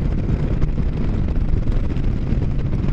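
Strong wind rushes and buffets steadily against the microphone during a road ride, a loud continuous roar with no talk.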